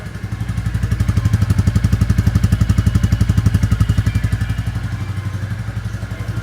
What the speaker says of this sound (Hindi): मैंने हल्का सा जो मेरा माइक है इसको एग्जॉस्ट के पास लेकर गया हूँ और आप ये देखो थंब आप सुनो